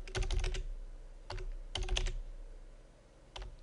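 Figures being typed into a spreadsheet on a computer keyboard, heard as several quick bursts of close, crisp key clicks separated by short pauses.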